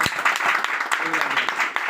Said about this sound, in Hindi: तो मैं चाहूंगा कि एक जोरदार तालियां होना